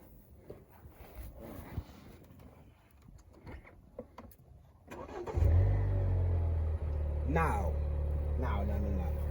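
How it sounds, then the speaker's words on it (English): After some quiet shuffling and clicks, a car engine cranks and starts, settling into a steady loud idle with a brief rev, voices talking over it. "And now let's turn this car on."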